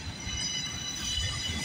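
The CPKC 135 freight train rolls past at Guelph Line in Campbellville, Ontario, close and continuous, a rumbling wash of rail noise with high wheel squeal running across the whole short stretch.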